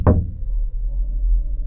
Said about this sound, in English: another knock came at the front door.